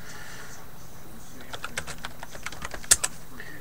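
Short run of computer keyboard typing, a quick handful of soft key clicks up close with one sharper tap near the end, over faint room noise.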